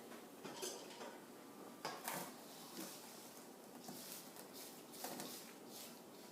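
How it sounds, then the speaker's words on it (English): A spatula scrapes the sides of a mixing bowl of cake batter, making faint, intermittent scraping and tapping strokes at close range, without speech. "now I'm going to scrape down the sides of the bowl to get everything incorporated"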